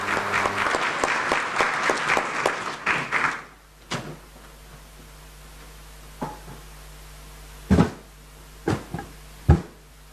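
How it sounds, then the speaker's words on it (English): Conference audience applause at an inter-parliamentary meeting on family values, dense clapping for about three seconds that stops abruptly, followed by a quiet room with a few sharp isolated taps and knocks. "Please, another round of applause for Dr. David Odinga."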